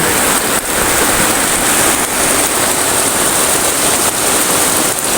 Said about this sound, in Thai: ตอนนี้ก็ฝนกำลังตกมาหาใหญ่เลยนะครับพี่น้อง